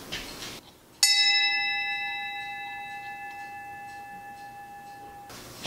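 A bell found in a barn is struck once and rings with a bright metallic clang, then a long steady sustained tone that slowly fades over several seconds, alone and fairly close.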